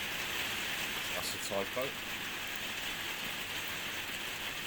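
Steady rain falling outdoors, a broad even hiss filling the whole stretch, with a short spoken remark partway through.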